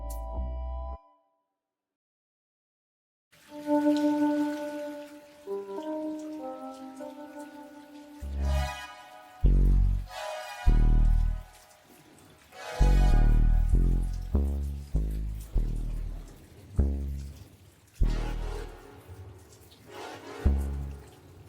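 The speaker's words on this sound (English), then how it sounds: "We're gonna cook this until it's soft and add our tomatoes and spinach. Let's let it simmer down." Tomatoes and spinach simmer and sizzle in a pan, with a crackling, rain-like hiss that comes in loud irregular bursts after a brief silence, alone without talk.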